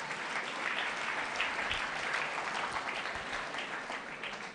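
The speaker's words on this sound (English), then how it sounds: "Clap for yourselves." A gathered audience claps for itself at a school thanksgiving Mass, producing a thick, continuous roar of applause at an even level that eases slightly toward the end.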